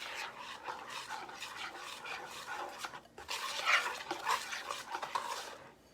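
A spoon stirs corn bread (johnny cake) batter in a mixing bowl, giving a steady run of soft scraping and clinking against the bowl that grows a little louder in the second half. No one speaks.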